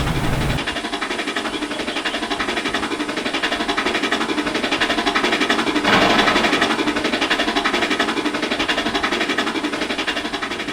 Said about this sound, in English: the train crawled its way back down the line to the junction